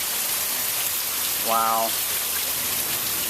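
Heavy rain pours steadily onto a patio, a dense, even hiss filling the whole stretch, while a man briefly exclaims partway through.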